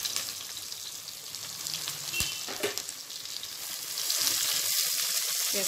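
Cashews, onions and green chilies fry in a pan for bagara rice, crackling and sizzling nearby, with a couple of quick utensil knocks midway and the sizzle swelling louder toward the end.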